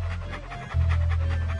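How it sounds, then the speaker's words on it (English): Walt the dog from Monkey Island 2 pants in quick, rhythmic breaths over a low steady game hum, close and moderately loud, with no talk. "What a ferocious-looking dog."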